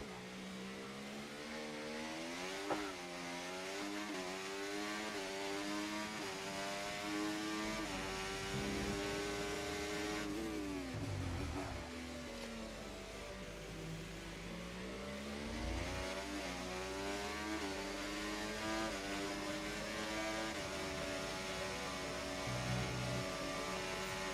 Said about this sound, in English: there is a lot more engine braking